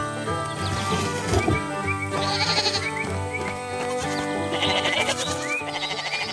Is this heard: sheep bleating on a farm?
yes